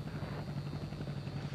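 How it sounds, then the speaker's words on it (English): A video game helicopter drones overhead with a steady low rotor hum and a faint repeating thump, continuous and moderately quiet throughout with no talking. "Helicopter's still there."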